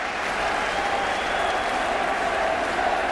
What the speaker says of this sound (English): The crowd applauding now the two fighters